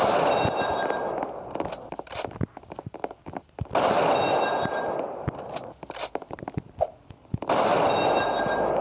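Gunfire in the Roblox video game: rapid bursts of sharp shots, some spaced and some in quick succession, repeat between louder stretches of noisy background.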